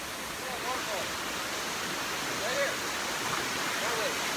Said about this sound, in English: Oh, there's a waterfall right here.